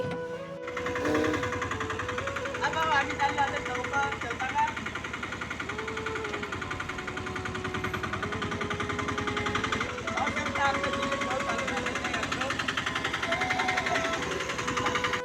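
An auto rickshaw engine chugs and rattles continuously at close range, a steady hammering drone with a vibrating buzz, while people talk over it.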